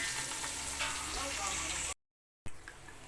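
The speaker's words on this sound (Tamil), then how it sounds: "ஆனியன் வதங்கட்டும்." Onions fry in a pan for biryani with a steady close sizzle and light stirring, broken by a brief silent gap before the frying sound resumes.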